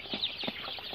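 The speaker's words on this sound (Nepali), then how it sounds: "यो अहिले भर्खर आएको एक दिने चल्ला हो" Several one-day-old local chicken chicks chirp in quick, high, thin peeps, close by and fairly steady over a soft background.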